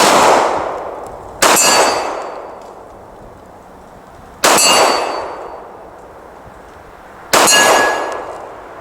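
Sig Sauer P320 9mm pistol firing 124-grain reloads: three loud, sharp shots spaced about three seconds apart, each with a long ringing decay, and no talking.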